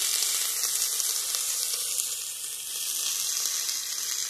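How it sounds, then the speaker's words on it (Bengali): Pumpkin leaves frying in a little oil in a wok, a steady bright sizzle and hiss that holds throughout, fairly close, no voices. "এই যে কড়াইতে অল্প করে তেল দিয়ে আমি এবার পাতাগুলো একে একে দিয়ে দেবো"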